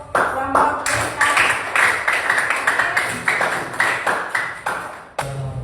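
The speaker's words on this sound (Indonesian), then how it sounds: "Ya, tepuk tangan untuk kelompok kita." A group claps for a few seconds after a cooking presentation of nasi goreng, steady close applause with sharp individual claps throughout.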